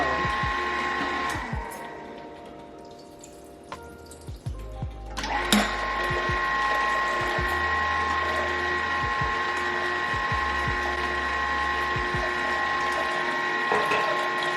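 A juicer grinds steadily while blueberries and coconut water are juiced, a loud continuous mechanical whir and rattle with a brief clattering break partway through, no talking.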